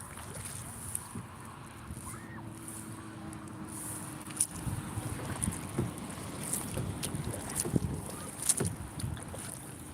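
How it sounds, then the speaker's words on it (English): Kayak paddling on Frenchtown Pond, with steady wind and microphone buffeting plus soft water swishes and knocking paddle strokes that grow busier in the second half, no voices. "Doing all this kayaking,"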